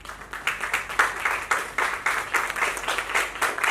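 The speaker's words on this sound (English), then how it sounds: "I would like all of you all to give a big round of applause to the team" Audience applause for a transplant team at a hospital press conference after a domino kidney transplant in Mumbai, a steady mid-level wash of many hands clapping with rhythmic surges, sustained throughout.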